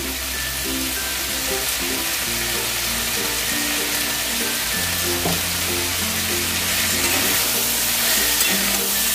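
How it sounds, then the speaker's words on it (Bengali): Vegetables and drumstick stalks frying in a pan for Bengali shukto, a loud, steady sizzle close by that continues without a break, with faint stirring underneath. "মিনিটের মতো সবজিগুলোকে ভালো করে ভেজে নিলাম"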